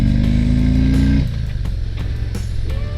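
A 2021 Harley-Davidson CVO Limited touring motorcycle on the road, its big V-twin droning loud and close, the engine note dropping as it shifts or eases off, with steady wind rush underneath.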